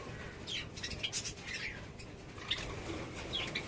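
Budgerigars in a breeding colony give scattered, faint, high chirps and twitters against quiet background noise, with soft wing flutters here and there.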